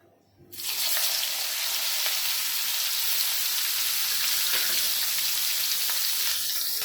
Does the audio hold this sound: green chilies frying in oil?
yes